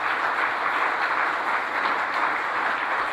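A church congregation clapping together during a Sunday service, a dense, even patter of applause that holds steady throughout without any talking.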